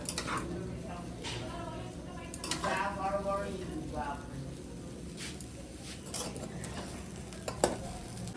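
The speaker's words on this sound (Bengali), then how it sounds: "নাড়ানাড়ি ডিপার্টমেন্টে গেছে সুস্মিতা, নাড়ানাড়ি করছে" Food being stirred in a frying pan at a Kolkata old-age home kitchen, with scraping and sizzling under a steady bed of frying noise while people talk over it.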